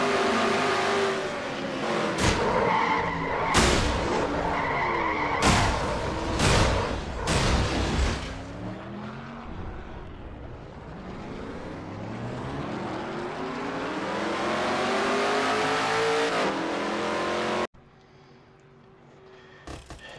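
A Quaker State Ford stock car in a racing video game at Pocono skids and crashes, with loud engine roar, sharp impact bangs and a long sweeping screech that ends abruptly, leaving quieter engine hum.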